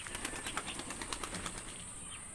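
A pigeon flaps its wings in a quick series of soft, close clapping beats that taper off after about two seconds.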